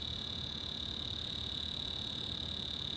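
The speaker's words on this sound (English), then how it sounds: "I dropped my laptop. I dropped it. And it is making an obnoxious noise." A laptop computer that was just dropped gives off a steady, high-pitched electronic whine. It holds one constant tone for the whole stretch over a low background hum, with no talking.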